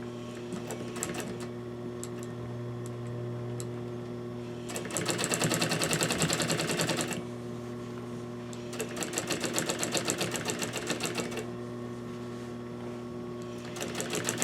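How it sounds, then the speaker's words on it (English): A sewing machine runs white thread through light-coloured fabric along a half-inch seam for a Parson's chair slipcover, in two rapid mechanical bursts of stitching over a steady low hum, close by. "So I'm going to stitch this seam right in here, keeping my 1/2 inch seam allowance."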